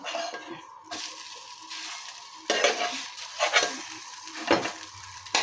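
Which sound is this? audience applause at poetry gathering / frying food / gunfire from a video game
frying food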